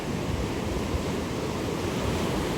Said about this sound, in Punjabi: ਦੇਖੋ ਲਹਿਰਾਂ ਕਿੰਨੀਆਂ ਸੋਹਣੀਆਂ ਸੋਹਣੀਆਂ ਆ